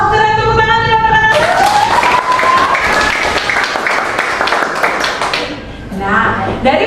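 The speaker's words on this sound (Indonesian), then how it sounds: "Wah, keren, tepuk tangan dulu, anak-anak." Schoolchildren in a classroom clap together after a lesson, a lively burst of many small hands applauding for several seconds before it fades, with a voice heard in the room.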